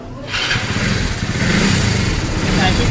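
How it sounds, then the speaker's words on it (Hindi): A nearly new Hero Splendor Plus BS6 motorcycle engine with an odd noise, starting up and then running steadily at close range as a loud, continuous, rough drone. "आज आया है स्प्लेंडर BS6 मॉडल है। देखिए इसमें कितना अजीब टाइप का साउंड है।"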